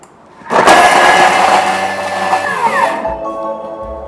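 A Thermomix food processor quick-chopping at speed 8 for eight seconds: a loud whirring blade roar starts abruptly, holds steady, then winds down with a falling whine as the motor stops.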